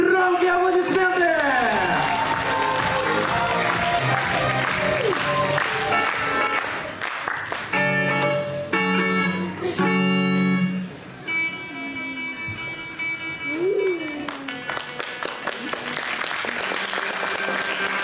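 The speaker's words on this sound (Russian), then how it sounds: "Громкие аплодисменты!" Loud applause from a concert audience at a youth rock music competition, sustained clapping with a compere speaking over it and music starting partway through.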